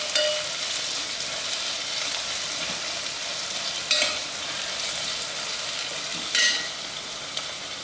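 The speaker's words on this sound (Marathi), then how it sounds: "गॅस जोरातच ठेवायचा आहे, जोपर्यंत छान कांदा परतत नाही तोपर्यंत।" Onion frying hard in a pan over high gas flame, a steady loud sizzle throughout with a few brief sharper crackles and stirring scrapes, no talking.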